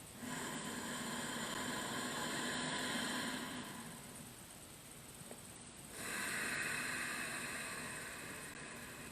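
Slow meditative breathing, a long steady airy inhale, then a quieter pause, then another broad exhale, close and continuous with no talking.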